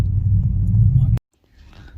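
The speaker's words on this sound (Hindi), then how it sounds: "तो हमने तो गाड़ी पार्क कर ली है" A car engine rumbles loudly and steadily at close range while parking on a mountain road near Mashobra, Shimla, then cuts off abruptly, leaving faint ambient sound and distant voices.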